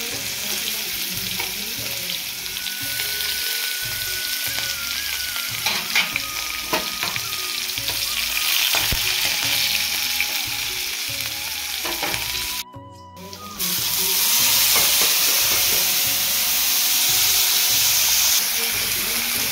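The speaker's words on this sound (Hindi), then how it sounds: "तो ये है प्याज और टमाटर, इसका छौंक लगाने हैं" Onion and tomato tempering sizzles and fries steadily in a pan for an Indian dish, a loud continuous crackle with stirring scrapes throughout and a brief dropout partway before it resumes slightly louder.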